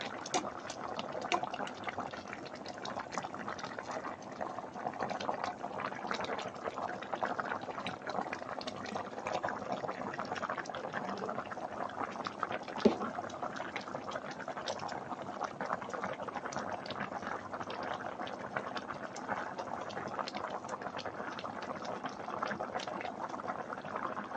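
Sea bass sinigang soup boils steadily in a pot, a continuous bubbling simmer that holds even and unbroken throughout, with no voices over it.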